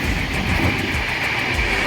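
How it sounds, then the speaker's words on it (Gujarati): A train rumbling past nearby a railway station, a loud continuous roar with rhythmic clatter of wheels on the rails. "અહીં ગાડી આવે છે ગાડી ગઈ"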